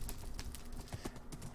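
Horse hooves clip-clopping in the game Terra Restore 2, a quick run of irregular sharp hoof knocks close by over a low background hum, no one talking.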